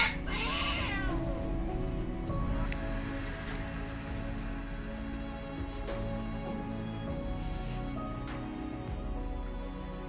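A black cat meows near a garden fence while visiting to eat fish, a single clear meow at the start followed by quiet outdoor ambience with faint clicks.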